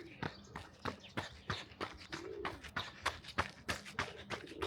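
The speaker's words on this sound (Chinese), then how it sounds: "好多鸽子" Pigeons in a small city street-corner park coo and flutter with wingbeats nearby, a series of sharp flapping bursts at moderate volume beneath people talking.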